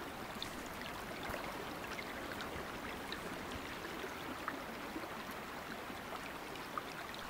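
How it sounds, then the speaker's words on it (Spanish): A river flowing in the hunting game Way of the Hunter, heard as a steady, soft broadband rush of moving water that holds at an even, fairly faint level throughout with no talk over it. "pues hemos llegado ya al río"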